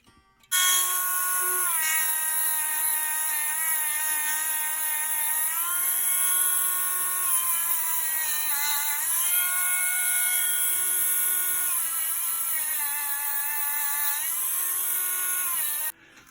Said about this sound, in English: There are areas I can't get to with the Dremel.